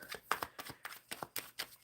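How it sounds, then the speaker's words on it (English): Tarot cards shuffled close by, giving a quick run of crisp, papery riffling bursts at an uneven rhythm, with no talking. "I'm shuffling for Beenish."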